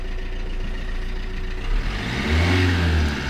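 Fiat Egea 1.6 Multijet diesel automatic revving toward 2000 rpm: a steady engine hum that rises and swells in the second half, close and fairly loud, with no talk.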